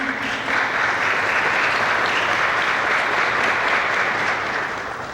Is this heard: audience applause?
yes